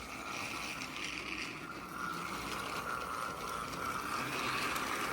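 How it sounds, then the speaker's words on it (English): Steady mechanical whirring and rattling with a faint ratcheting clatter, a small motorized 2025 Thomas toy train engine running continuously along plastic track, sounding cheap. "I wish these engines sounded better on the tracks"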